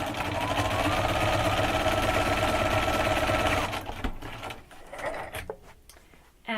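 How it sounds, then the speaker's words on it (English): A sewing machine runs steadily for about three and a half seconds, stitching a 2.5-inch quilt square to a fabric rectangle, then stops and leaves quieter handling noises. "we're just going to sew those 2 pieces together"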